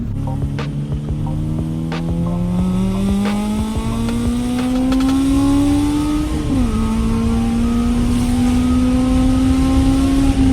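A Proton Gen-2 CPS 1.6L car engine revs loud and close, its steady droning tone climbing gradually in pitch before dropping sharply and settling again, with no voices present.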